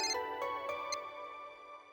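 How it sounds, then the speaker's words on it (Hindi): A mobile phone ringtone plays as a bright, repeating electronic melody. It sounds faint and steady and is heard alone, with no talking. "पापा आपका फोन बज रहा है।"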